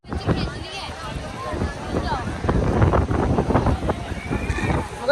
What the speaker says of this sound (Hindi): इतनी हवा चल रही है यहाँ पर, इतनी हवा कि बता नहीं सकते हैं।